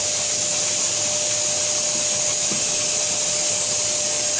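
A pressure canner heating on a high stovetop burner while canning squash, giving off a steady, loud broadband hiss of venting steam with a faint constant tone, continuous and unbroken throughout.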